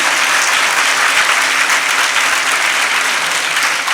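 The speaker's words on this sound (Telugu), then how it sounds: "మీ యొక్క హృది నిండినటువంటి చప్పట్ల ద్వారా మమ్మల్ని అభినందిస్తే అంతే చాలు" Sustained, dense applause from a large audience fills the whole stretch, loud and steady with no pauses, at a festival of sacred oil anointing held at the shrine of Saint Anthony in Nagarampalem.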